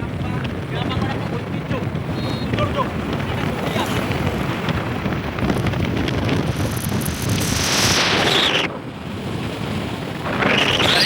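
Strong wind buffets the microphone in a constant roar while riding a scooter through rural Bengal, rising and gusting over several seconds, with a brief dip near the end.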